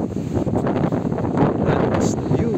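Strong wind buffets the microphone outdoors at a lighthouse, a steady broadband roar with gusty swells throughout, while a person talks over it.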